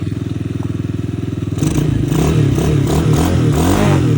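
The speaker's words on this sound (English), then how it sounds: "You can definitely see it clicks into gear." A Chinese Honda-knockoff ATV engine runs with a steady low throb, then shifts into a rougher, clattering idle as it clicks into gear, loud and close, with no talking.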